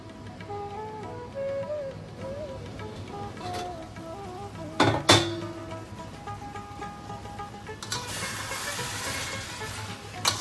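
Kolmi shak (water spinach) sizzles and fries in a hot pan while being gently stirred, a steady crackling hiss with a few louder scraping stirs partway through.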